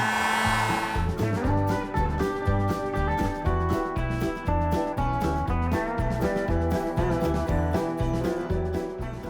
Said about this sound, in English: Plug my heat gun in, and we're going to shrink this tube.